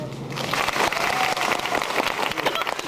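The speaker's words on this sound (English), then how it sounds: "Just listen to this applause." Theme park audience applause, a dense wash of clapping that swells and holds steadily at moderate loudness, with voices mixed in underneath.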